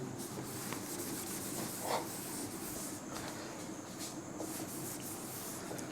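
Writing rubbed off a classroom board, giving a steady, soft dry scrubbing that continues throughout with little variation and a brief louder swipe near the middle.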